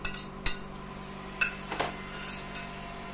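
Fried mustard seeds tipped out onto a plate, giving a few sharp clinks and light scattered taps against the dish with short pauses between them.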